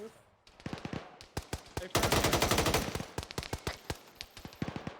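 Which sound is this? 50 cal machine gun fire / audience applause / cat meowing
50 cal machine gun fire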